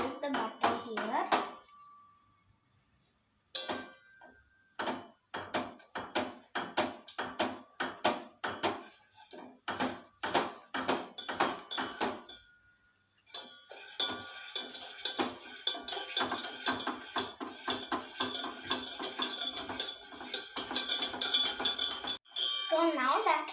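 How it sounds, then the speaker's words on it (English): A pot of butter melts on a stove amid clattering cookware: scattered metallic clinks and knocks, a brief quiet lull, then a dense run of rapid clanking and scraping near the end. "take your butter and put it in a pot and melt it on a stove"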